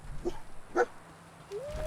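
Dogmeat, the canine companion in Fallout 4, lets out a couple of short, near barks and yips followed by a rising whine, heard alone over a low game ambience.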